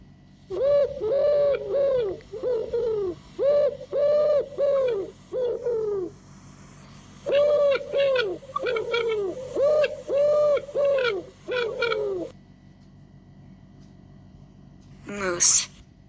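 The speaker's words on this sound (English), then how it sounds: "Pigeon." A pigeon coos in repeated rolling phrases, loud and close, in two groups separated by a short pause, followed by quiet and a brief bright burst at the end.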